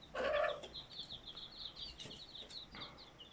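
Soft, rapid cheeping of Gurk chicks runs throughout, with a short low hen cluck near the start, all fairly quiet and close.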